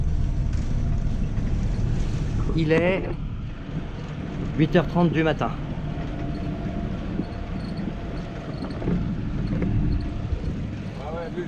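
A steady low engine drone comes from a Mahé 36 catamaran motoring on a windless morning, continuous beneath someone speaking French.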